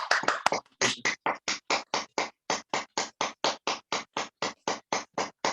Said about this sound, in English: clap it with your finger and clap it for 40 times like that